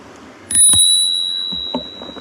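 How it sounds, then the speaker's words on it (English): A small bicycle bell rings twice in quick succession, bright and close, its metallic tone fading, followed by faint tapping. "We've got a little bell."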